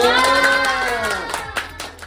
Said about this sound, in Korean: 우리 박수 쳐줄까요?